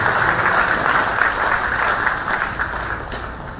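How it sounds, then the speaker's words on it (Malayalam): An audience applauds to welcome a bishop at a church consecration ceremony, a steady dense wash of many hands clapping that slowly fades toward the end, with no voices. "കൈയടിച്ച് പിതാവിനെ നമുക്ക് സ്വീകരിക്കാം."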